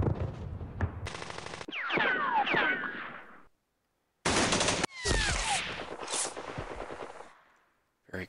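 Unit gunfire in a Fall of the Philippines war strategy game: bursts of rapid machine-gun fire and shots with whistling ricochets, loud and close, broken by a short silence and ending abruptly.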